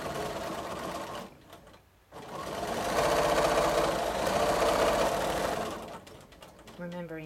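A sewing machine stitches free-motion feather quilting along ditch-quilted seams, a fast close mechanical chatter that runs steadily, pauses briefly, then resumes.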